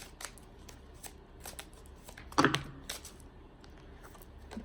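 Tarot cards being shuffled by hand, a series of soft riffling bursts with one louder, fuller flurry near the middle, close and fairly quiet with no talk.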